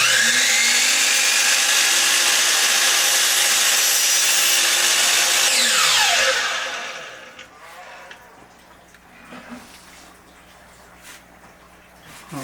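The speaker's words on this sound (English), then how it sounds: "I'm going to cut once, take a look, and then perhaps cut again." A power saw with a laser guide cuts a wooden pen blank, giving a loud, steady whining roar for about six seconds, then spinning down and stopping, followed by quiet workshop handling noises and light clatter.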